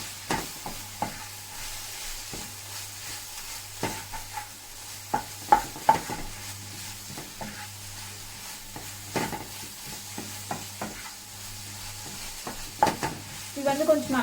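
Chickpea curry masala sautéed and stirred in a pan, a soft continuous sizzle with scattered scraping spoon strokes and occasional clinks against the pan, close and steady, no voices.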